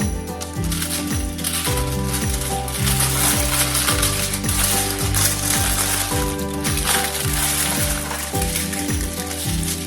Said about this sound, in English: all I'm gonna do is wrap my sweet potatoes in my foil